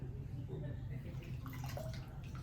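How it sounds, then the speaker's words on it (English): Floral foam soaks in a sink of water, giving off soft bubbling and small trickling, gurgling sounds, quiet and close against a low background hum. "just soak this down in there, let the bubbles come out"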